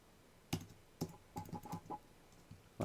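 Several separate keystrokes on a computer keyboard while a word is typed into an image editor, soft clicks spaced irregularly with a short burst of quicker taps in the middle, close and fairly quiet.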